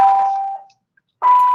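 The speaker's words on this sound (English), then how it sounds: "Is that like your class bell?" A school class bell sounds in two electronic tones, a sustained ring that fades out, then after a short silence a second loud tone begins.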